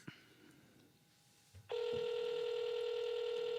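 Telephone ringback tone on an outgoing call begins partway through, a loud steady tone sustained after a brief quiet stretch with a couple of small knocks.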